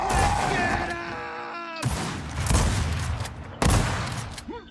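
Gunfire in a competitive video game match at a championship final, a few loud sharp bursts and abrupt shots cutting in among game effects, close and forceful.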